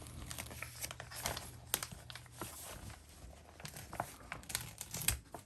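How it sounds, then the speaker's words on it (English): Adhesive strips peeling off board game rule sheets, giving close, quiet crinkling and tearing with irregular small crackles and rustles throughout, no talk. "they just peel right out with the small strip of adhesive here"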